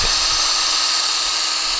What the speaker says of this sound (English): I'm going to pre-drill the wood right where I ran my countersink bit